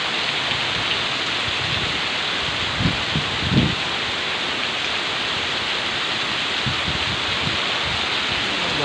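Steady, dense rain pours down continuously during a rainstorm hitting Vientiane, with a few brief low thumps rising above the even hiss; no one speaks.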